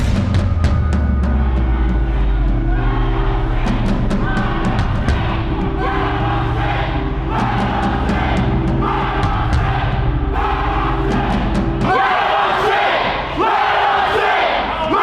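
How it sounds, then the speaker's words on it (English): An angry crowd of protesters at the Michigan Capitol, some waving Confederate flags, screams and yells loudly in surging, overlapping waves of shouting. "walk through an angry, screaming crowd waving Confederate flags"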